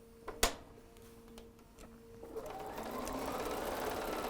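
A sewing machine runs steadily, stitching a seam on a Christmas fabric face mask, its hum building after a few sharp clicks near the start, with no talking.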